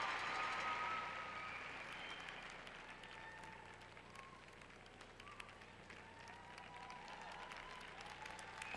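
A figure skating arena crowd at Skate Canada 2002 applauds and cheers for Takeshi Honda, a steady, distant wash of clapping that is loudest at the start and carries on throughout.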